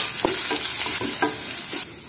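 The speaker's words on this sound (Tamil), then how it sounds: "அஞ்சாறு கருவேப்பிலை, எல்லாம் லோ ஃப்ளேமில் வச்சு நல்லா வதக்கிக்கலாங்க." Chilli, garlic, curry leaves and turmeric sauté in a pan over a low flame, with a steady sizzle and a few scraping stirs of a spoon recurring through the short stretch, close and fairly loud, no voices.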